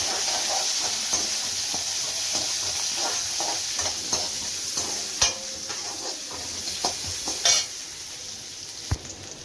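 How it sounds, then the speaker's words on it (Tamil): Curry leaves, tomato and onion sautéing in a pan for vegetable sambar, a steady close sizzle and hiss broken by scattered clicks and scrapes of a spoon stirring against the pan, with no one talking. "கருவேப்பிலை, தக்காளி, வெங்காயம் போட்டாச்சு. நல்லா வதக்கணும்."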